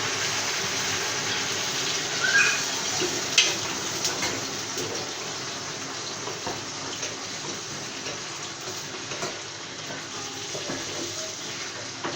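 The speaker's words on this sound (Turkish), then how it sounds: "Şuna da suyunu ekleyelim." Water pours steadily into a cooking pot in a home kitchen, a soft continuous gush with light splashing, fairly quiet and heard alone.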